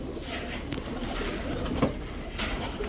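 Omani teddy pigeons, male birds kept in a loft, giving soft low coos amid faint background rustling, a few calls standing out briefly against a steady ambient hum.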